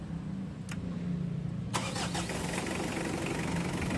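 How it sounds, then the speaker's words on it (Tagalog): Diesel engine starting after a fuel filter change: a brief crank, then the engine catches and settles into a steady low idle hum, fairly quiet and without talk. "Pa-start ko na itong makina mga boss."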